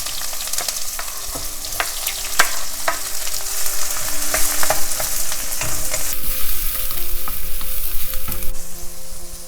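Chopped onion frying in olive oil with cumin seeds, a loud close sizzle with steady crackle and scraping stirs throughout, no voices.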